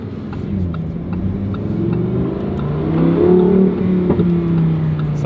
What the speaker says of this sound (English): We're driving the all-new Huracan Tecnica.